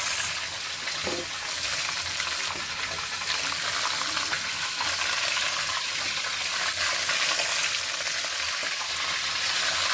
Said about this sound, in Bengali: আবারও মাছ ভেজে নেব। সেম মতো এই মাছগুলো ভেজে নেব।